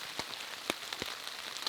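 Soft rain on a tarp shelter at a lakeside backcountry campsite, with occasional distinct drops tapping the fabric over a quiet, faint patter.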